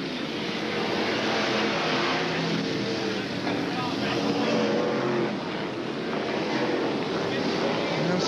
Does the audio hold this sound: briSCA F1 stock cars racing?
yes